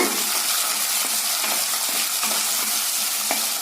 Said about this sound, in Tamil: இதையெல்லாம் சேர்த்து நல்லா இந்த எண்ணெயில் வதக்கி விடலாங்க